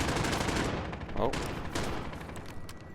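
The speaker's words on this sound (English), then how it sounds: "See how he shot several shots there, but only really hit one." Rapid bursts of gunfire from Call of Duty Modern Warfare survival mode, several shots cracking in quick succession amid dense, loud in-game battle noise with a voice talking partway through.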